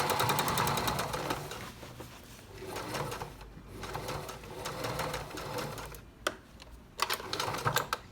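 Sewing machine stitching a small elbow dart into a denim jean jacket sleeve, running in several quick bursts with brief pauses and sharp clicks between runs, fairly close and steady.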